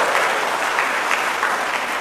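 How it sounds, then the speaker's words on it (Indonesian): A church congregation at a men's worship service claps for the men present, steady dense applause from a room full of people lasting a couple of seconds, with no talking over it. "Tepuk tangan saja kasih bapak-bapak ini"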